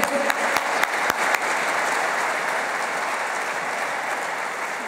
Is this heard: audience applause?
yes